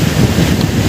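Strong coastal wind buffets the microphone near a lighthouse, a loud, steady low roar with rushing noise and no voices.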